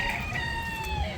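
Rooster crowing in Key West, Florida, a single drawn-out call with a falling tail, moderately distant and faint against light background noise.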